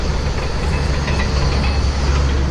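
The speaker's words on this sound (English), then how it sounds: "it's one of the busiest train stations in Switzerland" A train rolls through Zurich Hardbrücke, one of Switzerland's busiest stations, as a steady, loud rumble with a constant low drone and rail noise throughout, no voices.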